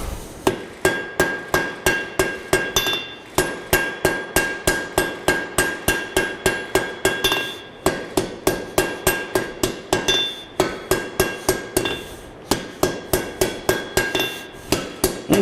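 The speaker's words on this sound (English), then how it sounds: "in the process of drawing your blade down" Steady, rhythmic hammer blows ring out on a steel axe blade as it is drawn down at the anvil to refine a forge weld, dozens of sharp metallic strikes in quick even succession, close and loud with no talking.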